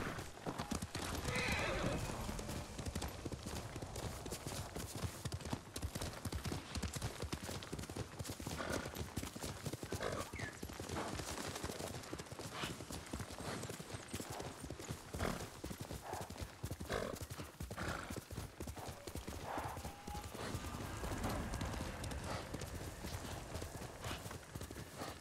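Kage, a horse in the Ghost of Tsushima video game, gallops with continuous rapid clip-clop hoofbeats and whinnies a few times, steady and moderately loud throughout under faint game ambience.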